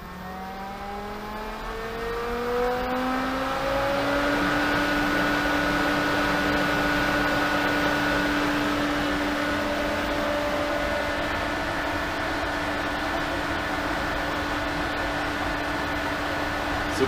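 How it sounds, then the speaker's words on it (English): A pool pump motor spins up over the first few seconds, its hum rising in pitch, then settles into a loud, steady whine with broadband rushing noise as it runs at maximum speed. No one speaks. "we're going to simulate a single speed pump by cranking it up to maximum speed"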